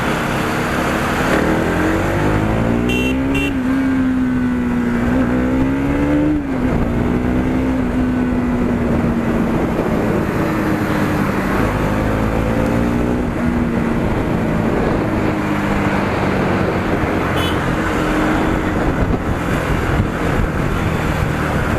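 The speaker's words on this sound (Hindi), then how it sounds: "जैसे ही मैं इसको हायर रेव से एकदम छोड़ रहा हूँ और जैसी बाइक स्लो हो रही है" A carbureted motorcycle engine revs high, then is released and drops back as the bike slows, with a steady droning tone that rises and falls over continuous road and wind noise.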